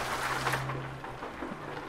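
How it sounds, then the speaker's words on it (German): Steady rain hisses throughout with a low rumble of thunder underneath, moderately loud and continuous, in the video game American Truck Simulator. "Ach ja, es regnet ja gerade."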